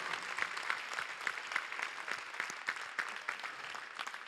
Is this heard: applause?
yes